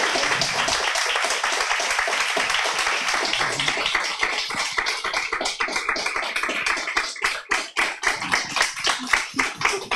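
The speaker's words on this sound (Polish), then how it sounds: "Wielkie brawa dla naszych gości." An audience claps for guests at the close of a talk, a dense burst of applause that thins toward the end into scattered, distinct claps.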